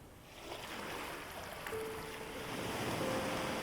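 Ocean waves wash continuously along a beach, a steady broad surf rush with a light breeze, no voices.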